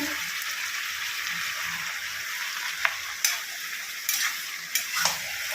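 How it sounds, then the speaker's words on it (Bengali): Malabar spinach cooking in fish oil gives a steady, soft sizzle, with a few sharp clinks and scrapes of stirring, one of them a short double tap, breaking through every second or so. "পুঁই শাক রান্না হচ্ছে মাছের তেল দিয়ে"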